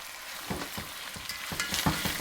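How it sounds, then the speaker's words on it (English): Beef tenderloin and red pearl shallots sear and sauté together in a hot pan for a Thai massaman curry. A steady close sizzle runs throughout, broken by a series of rhythmic stirring scrapes, with no talking. "As the meat sears, in goes 250 grams of these gorgeous red pearl shallots and just allow it to saute along with the meat."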